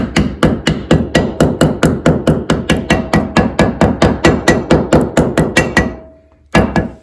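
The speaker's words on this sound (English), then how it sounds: "you want to make sure you tap it down enough where it's even with the back of the hub" Steel hammer strikes tapping a front hub into place on a 1946 Jeep CJ2A, about twenty sharp, evenly paced blows close by, then a brief pause and one more hit.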